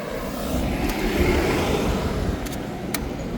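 Cars passing on a road beside someone waiting on foot to cross, a broad swelling whoosh of tyres and engines rising and fading over a few seconds with a couple of sharp clicks, no talk.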